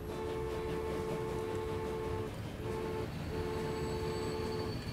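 A train rumbles along the tracks in the Transport Fever video game, a loud continuous rolling drone with steady tonal hums that break off briefly and resume.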